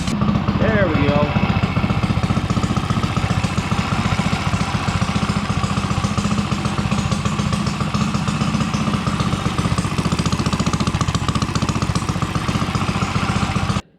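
The small engine of a micro minibike runs on clear gas, a steady buzzing putter close by that holds for the whole stretch before cutting off abruptly at the end.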